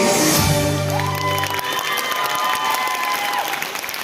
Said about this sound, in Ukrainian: Гарячі оплески